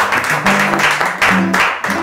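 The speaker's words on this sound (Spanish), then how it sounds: "Un aplauso para Xiomara primero por ahí." Studio audience applause for Xiomara on a talk show, short bursts of clapping loud and close, with voices and laughter mixed underneath.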